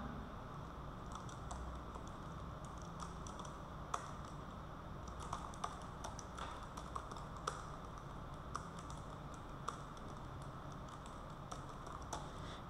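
An address being typed on a computer keyboard, faint, quick key taps in uneven bursts with a few louder clicks over a low room hum, continuing for several seconds without speech.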